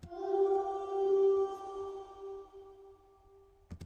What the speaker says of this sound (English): This is the reverb on its own.